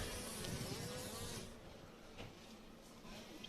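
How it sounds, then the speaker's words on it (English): Mini motocross bikes race past at a youth event, their small engines giving a high, nasal, insect-like buzz that swells as they pass close, then fades into a steadier, more distant whine. "Literally buzzing the tower. Sound like hornets as they come by, Dean."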